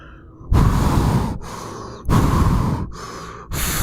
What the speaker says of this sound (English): The short opened with heavy breathing.